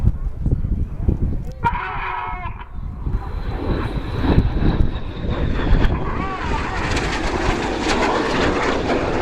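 Red Arrows jets fly past at the 2017 Fairford airshow, roaring and rushing loudly as they sweep by and swelling toward the end, while a commentator talks over the noise.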